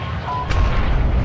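RPK light machine gun firing in Call of Duty Warzone, a loud heavy burst of booming shots in a single brief, dense rumble.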